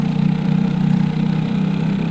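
A single LO206 racing kart engine drones steadily at a constant mid pitch during a Masters final race, close and loud with a slight pulsing rhythm.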